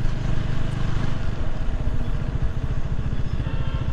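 A KTM Duke 390 motorcycle engine runs steadily up close, with a loud, continuous low throb and fine rapid pulsing throughout, and no one speaking.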